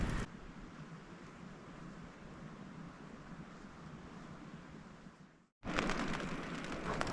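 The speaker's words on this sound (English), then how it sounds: "it is now raining." Rain falling on a tarp at a bushcraft camp at night: a steady, soft hiss of drops, broken by a brief silent gap before the patter resumes slightly louder.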